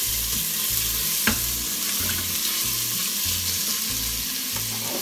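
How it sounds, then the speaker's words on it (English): Chopped onion sautés in an Instant Pot with a loud, close, continuous sizzle. Stirring and scraping strokes come in a regular rhythm throughout. "I'm going to add in 1 small onion that's been chopped. So I'll saute that a little bit."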